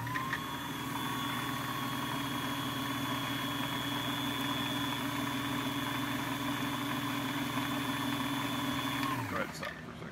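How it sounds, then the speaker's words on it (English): An old-style Bernina 830 sewing machine runs steadily while winding a bobbin, giving a constant motor hum and whir that cuts off sharply near the end, with a voice speaking over it. "So we're winding a bobbin here"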